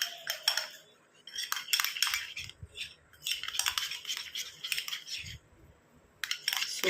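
A spoon mixes a thick paste in a bowl, giving quick bursts of bright clinking and scraping against the bowl, separated by short pauses, quiet and close, with no voices.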